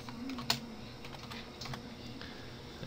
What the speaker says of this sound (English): So I'll type in another line